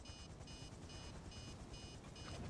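Low-fuel warning beeper in the game GTA, a rapid electronic beeping repeated in six evenly spaced bursts over a steady engine-like rumble, loud and continuous, with no talk.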